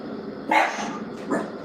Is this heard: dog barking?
yes